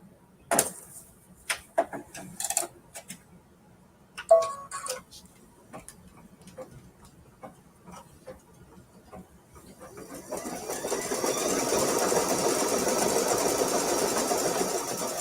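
An embroidery sewing machine stitches a tack-down on a gunny sack quilt block. Sparse ticking clicks come first, then a steady, dense mechanical whir builds and holds loud and continuous. No one speaks.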